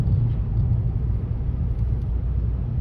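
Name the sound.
car engine and road noise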